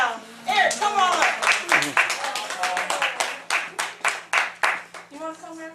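An audience claps for a volunteer called up at a storytelling event, with scattered then steady rhythmic hand claps over several seconds as a voice talks throughout.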